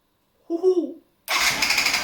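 A Yamaha DT125 two-stroke motorcycle is kicked over. A short sputtering cough comes first, then after a brief pause the engine fires and settles into a loud, steady running rattle.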